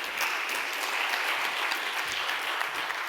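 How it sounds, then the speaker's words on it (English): Applause from a conference audience at the AgriFood Forum 2022, a dense, even wash of clapping with no voices. "Yes, please, applause."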